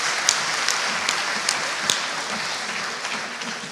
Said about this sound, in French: je veux lire le catalogue sous vos applaudissements